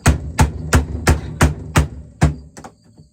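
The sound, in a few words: rubber hammer striking wooden cooler door piece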